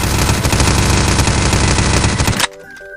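Rapid automatic gunfire from a Gun3D weapon addon in a video game, a dense loud stream of shots that stops abruptly, followed by brief mechanical reload clicks and a ringing tone.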